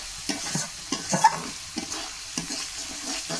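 Chicken curry masala cooking down in oil, stirred again and again so it won't burn: a close sizzle broken by several distinct scraping stirs at an irregular pace, with no voices.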